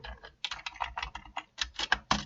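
Fingers typing code on a computer keyboard while scripting a Unity mobile hunting game, quick close clicking keystrokes in bursts after a short pause, fairly quiet and without talk.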